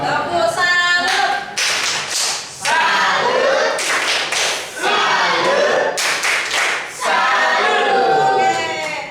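A school group performs a 'tepuk salut' salute clap, rhythmic bursts of hand claps in several sharp clusters separated by short pauses, with voices mixed in between.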